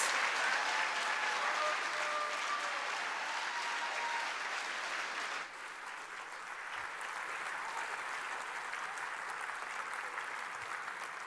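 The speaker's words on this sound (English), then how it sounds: "Please join me in a round of applause in appreciation for Gary Phoebus, leader of NEA member benefits." Sustained audience applause at an education awards gala honoring a member-benefits leader, a dense even wash of many hands that drops slightly in level midway and carries on steadily to the end.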